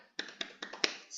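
Students doing a rhythmic spirit clap during a classroom ice-breaking activity: four or five sharp claps in an uneven beat, fairly close and moderately loud, with no talking.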